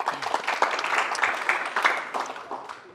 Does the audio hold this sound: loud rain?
no